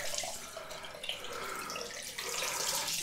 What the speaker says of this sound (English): So while I'm doing that, I'm just cleaning out the brush.